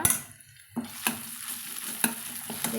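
Crushed garlic and ginger hit hot oil in a pan while making a cauliflower dish, giving a steady sizzle broken by the clack of a spoon stirring against the pan.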